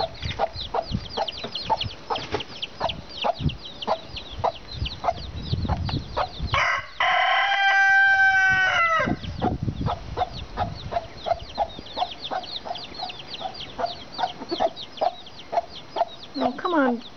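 Chickens cluck continuously in rapid, overlapping calls, and a rooster crows loudly partway through, all close by in a farmyard setting.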